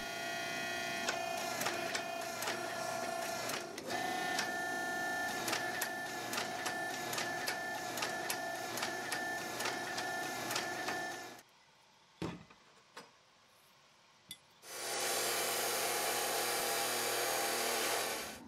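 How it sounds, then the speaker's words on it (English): A hand-lever forging press squeezes a steel billet into a solid piece during a cleaver knife build, giving a steady loud mechanical hum and whine with rhythmic clicks, then a sudden drop to near-quiet with a few knocks before the drone returns. "I abandoned the foot treadle and went back to using the hand lever on the press"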